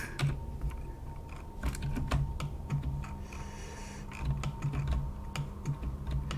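Rapid clicking of computer keyboard keys, steady bursts of close keystrokes during 3D modelling work in Blender, with a faint continuous hum underneath.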